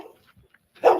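A caged dog lets out a single short bark, close and sharp, after a near-silent moment with faint rustling.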